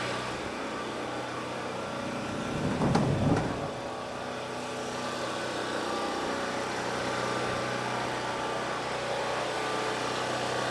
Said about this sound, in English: That has been one reliable generator.